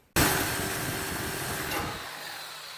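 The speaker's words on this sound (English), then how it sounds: "Take a Sawzall from this side, go down, don't cut all the way through." A Sawzall reciprocating saw cutting into the edge of a steel trailer fender, starting abruptly and running loud and steady for over two seconds, then easing slightly as the blade slows, with no voices.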